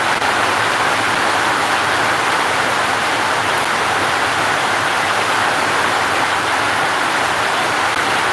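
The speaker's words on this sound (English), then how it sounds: "I don't know if you are getting me right since it's raining" Rain falls steadily outdoors as a dense, loud, unbroken hiss with no pauses or variation, close to the microphone during a live stream, with no voices audible.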